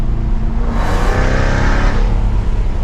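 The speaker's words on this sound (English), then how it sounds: "this thing is pretty darn quick with the supercharged V8. Sounds pretty awesome." A supercharged V8 in a 2024 Jaguar F-Type R75 AWD convertible roars as it accelerates, a loud, deep exhaust note rising steadily and filling the whole stretch.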